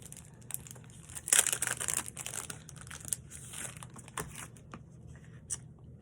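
Christmas embellishment stickers are peeled off a sheet with close crinkling and tearing sounds, a louder burst of peeling early on, then scattered softer crackles.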